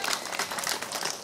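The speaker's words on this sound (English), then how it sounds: "Give yourselves a round of applause" A group of children at a pirate-themed scroll ceremony claps for themselves, a brief, dense burst of applause heard close and fairly loud.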